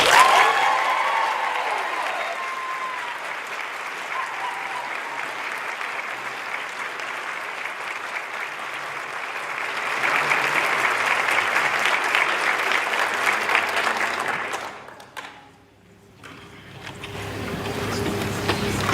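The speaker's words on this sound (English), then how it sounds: "Help me give a well-deserved round of applause to Amaya Esco" A crowd at a school district end-of-year celebration applauds steadily for a long stretch, swelling louder partway through, then briefly dropping away before clapping resumes.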